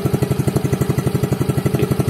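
A 2022 Yamaha FreeGo scooter that puffs a little smoke revs up close, its single-cylinder engine pulsing in a fast, steady, loud rhythm with no voices.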